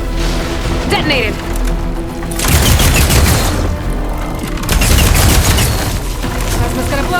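A plasma explosion in a video game bursts out as loud booming blasts, with dense rapid gunfire around it and broadband crashes that swell twice over the stretch, while shouting voices come through.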